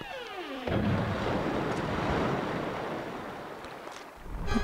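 Cannon blast in Zelda: Twilight Princess: a descending whistle, then a sudden loud boom that rolls into a long rumbling wash of noise, fading over several seconds before another thump at the end.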